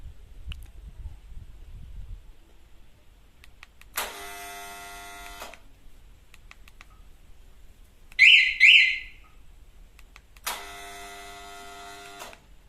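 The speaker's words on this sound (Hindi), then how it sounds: "यहाँ से देख लो, आपको आवाज़ आएगा स्टार्टर का।" Single phase motor starter, with capacitors fitted, switched on by remote: two sustained buzzing hums of about a second each, plus a short pair of higher electronic beeps between them, set against a quiet background.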